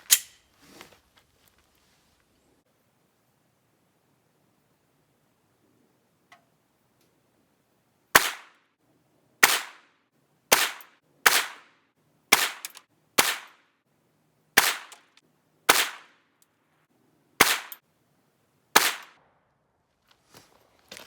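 Sig P320 pistol fired slow and deliberate at 25 yards: ten sharp, loud shots spaced roughly a second or two apart, following a quiet lead-in with a single faint tap.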